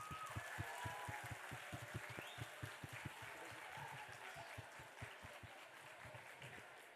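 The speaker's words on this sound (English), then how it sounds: "Can you give them another round of applause?" Audience applause for performers at a school Teachers' Day event, a steady wash of clapping under music-like low rhythmic thumps, moderately loud throughout.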